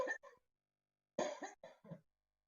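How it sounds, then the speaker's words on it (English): Coughing from a person with bronchitis: one short harsh burst, a pause, then a longer run of three or four rasping coughs, close and clear. "we were hoping to get through this channel without coughing"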